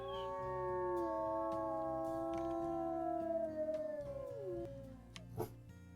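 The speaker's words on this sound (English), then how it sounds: "Let's do another howl together." A wolf pack in the video game WolfQuest howls together in long, overlapping sustained tones that slowly slide downward and then break off near the end, loud and close, with no speech.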